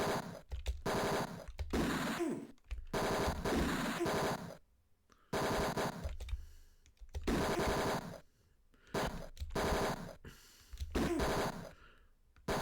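Machine gun fire from the video game Tex Murphy: Mean Streets comes in loud, dense bursts of several seconds each, separated by brief quiet gaps.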